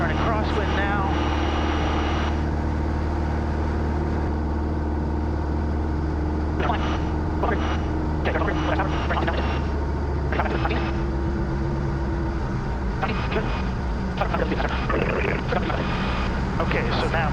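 Inside the cockpit of a light airplane climbing out near Nashua, NH, a steady, loud engine and propeller drone fills the cabin, with people talking over it throughout.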